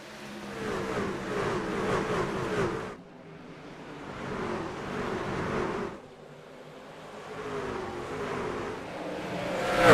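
Race truck engines roar steadily in a truck series racing video game at Indianapolis Raceway Park, loud continuous revving that drops and swells as the field restarts.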